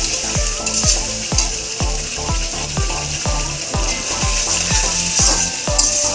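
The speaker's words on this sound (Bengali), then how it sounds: "তো মশলাটা এখনো কষানো চলছে।" Masala being sautéed in a pan for chholar dal, a steady close sizzle with a regular rhythmic scraping and knocking of the spoon, about two strokes per second, with no talk.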